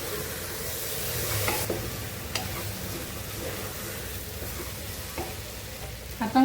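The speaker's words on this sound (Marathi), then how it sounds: "पुन्हा परत ढवळायचं, एकजीव करायचं।" Taro leaf curry with jackfruit seeds and peanuts is stirred in a pot, giving close scraping strokes over a gentle sizzle, with occasional knocks of the spoon against the pot.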